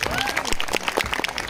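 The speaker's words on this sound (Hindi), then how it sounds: "ताली बजाओ" Crowd clapping at a college freshers' day celebration, brief and irregular, with excited voices and cheers mixed in over the claps.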